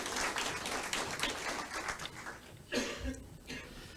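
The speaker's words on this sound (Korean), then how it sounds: "큰 박수로 맞이해 주시면 감사하겠습니다." Audience applause at a public hearing in Yangju on creating a northern Gyeonggi special self-governing province: dense, steady clapping filling the room, thinning out toward the end as a voice briefly comes through.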